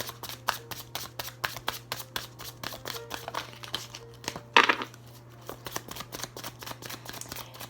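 Tarot cards shuffled by hand indoors, a quick steady run of soft riffling flicks and slaps close up, with a brief crinkle midway over a low constant hum.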